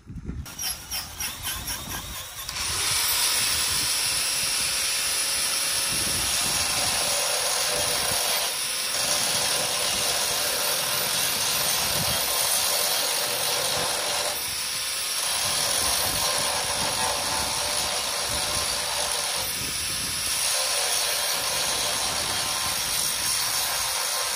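Steel rivet heads are being ground down on a chopped and shortened 3/4-ton truck frame. The grinding is a loud, continuous, screeching whine that runs on with only brief dips as the tool is eased off.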